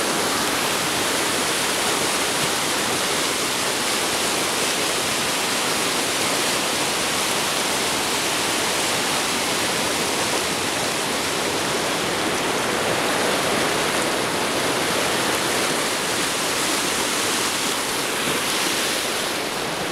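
River water rushes steadily through Lynn Canyon Park, a loud, close, unbroken roar of flowing water lasting the full twenty seconds with no voices.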